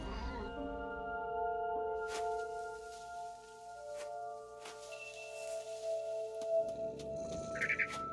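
In What Remains of Edith Finch, a cat meows and caterwauls in drawn-out, wavering cries over soft sustained ambient game music, with no voices present.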